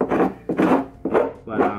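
A cut exhaust pipe on an NB Miata being rubbed out to clear metal shavings, four close, rasping scrubbing strokes in a steady back-and-forth rhythm, loud and dry.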